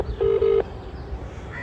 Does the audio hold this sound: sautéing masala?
no